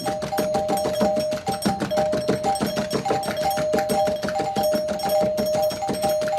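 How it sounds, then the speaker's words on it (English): A doorbell rings over and over in the middle of the night in rapid succession, its chimes repeating insistently and loudly with hardly a pause. "What the hell are you doing ringing our doorbell like that in the middle of the night?"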